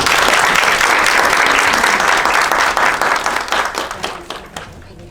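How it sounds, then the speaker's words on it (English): Women at a beauty business brunch in Savannah, Georgia applaud to welcome an author, a dense, loud wash of clapping that thins into scattered claps before fading out. "clap and just welcome her"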